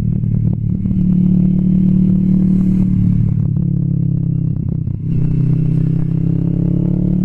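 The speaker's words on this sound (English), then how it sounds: "The exhaust is a little droney for me" Kawasaki Vulcan S 650 Cafe ABS fitted with an aftermarket exhaust, running steadily with a loud, continuous droning engine note that holds a low hum, dips briefly, then carries on strong.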